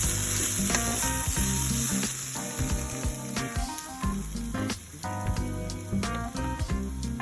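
Minced meat fries in a pan and sizzles steadily and loudly, with occasional stirring scrapes and crackles and no voices.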